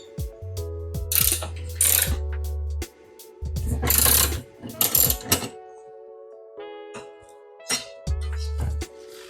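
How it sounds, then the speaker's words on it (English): Ratchet wrench fitted with an E14 Torx socket loosening bolts on an A90 GR Supra engine bay, giving several bursts of rapid clicking separated by pauses, close and fairly loud, with background music tones. "we'll get these undone with an E14"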